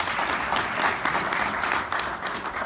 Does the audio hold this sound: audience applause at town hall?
yes